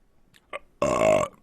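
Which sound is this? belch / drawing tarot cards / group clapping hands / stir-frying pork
belch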